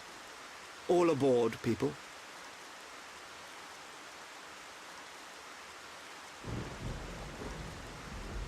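Rain and thunder in Xenoblade Chronicles Definitive Edition give a soft, steady hiss of rainfall, with a low rumble swelling in near the end; a voice speaks briefly early on.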